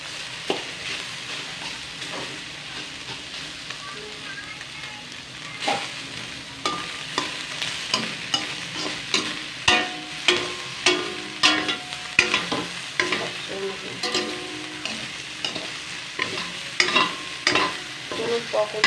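Pork adobo fries in oil and gets stirred. A quiet sizzle comes first, then crisp, rhythmic scraping strokes that grow busier and louder toward the end.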